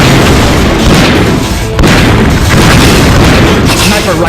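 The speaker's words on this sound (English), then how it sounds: "Shotgun." A shotgun fires in the video game Metal Slug 3D, producing dense, saturated booming blasts that fill the whole stretch at very high loudness with barely a pause.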